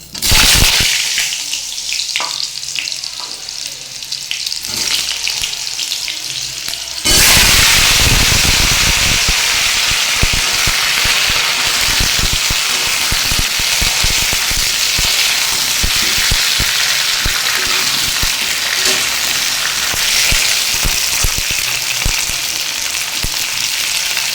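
Large chunks of sweet pumpkin frying in a pan: a quieter sizzle at first, then a sudden loud surge of hissing and crackling as the pieces go in, holding steady and close for the rest, with no talking.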